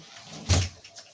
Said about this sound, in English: I'm gonna shut my door so I don't annoy anybody.